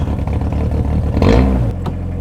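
Motor starting up and revving: a rising engine whir and clatter that builds briefly to a loud peak, then settles into a lower steady tone.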